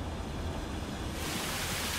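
Waterfall in the video game Marvel's Guardians of the Galaxy: a steady broadband rush of falling water, close and continuous, growing brighter and fuller partway through as if passing right beneath the cascade.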